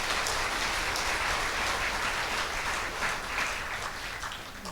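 Sustained, dense applause from a large audience at a Unification Church inauguration ceremony for a new association president, steady and loud throughout before easing slightly toward the end.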